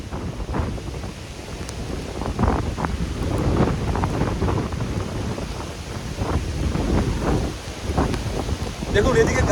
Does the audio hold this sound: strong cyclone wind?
yes